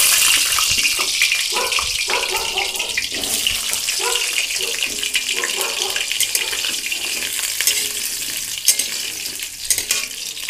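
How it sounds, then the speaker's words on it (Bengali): Potatoes dropped into hot oil fry with a steady, close crackling hiss, with watery bubbling and scattered clinks throughout. "তেলটা গরম হয়ে গেছে, আমি আলুটা এবার ছেড়ে দিচ্ছি।"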